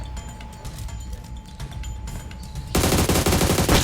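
Gunfire in a shooting video game: quiet room tone first, then from about three-quarters through, a loud dense burst of rapid automatic fire runs to the end.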